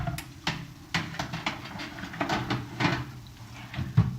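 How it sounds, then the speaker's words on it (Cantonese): An air fryer basket goes onto the top rack of an air fryer oven, with a string of light knocks and scraping rattles repeating closely over a faint steady hum. "然後氣炸籃就擺高層"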